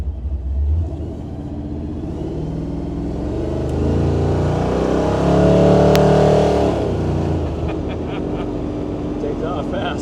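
A 1935 Ford coupe pulls away under hard throttle, its engine note swelling into a loud, rising roar that peaks midway and then settles into a steady drive, with voices talking faintly under it.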